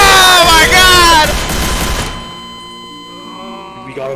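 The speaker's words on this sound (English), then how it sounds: "There were so many gunshots." Rapid gunfire from a Garry's Mod DarkRP game roars as a dense burst under loud shouting voices, then trails off into a ringing tail with game music.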